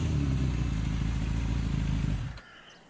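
A motorcycle engine runs steadily and close for about two seconds, a continuous low rumble, then abruptly cuts off and leaves near silence.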